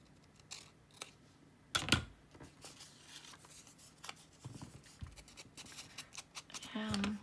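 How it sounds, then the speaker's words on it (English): Scissors trim a straight paper edge during a crafting session, producing a few quiet, crisp snips and rustles amid soft handling noises, with faint talk in the background. "I'm just going to trim that straight edge there"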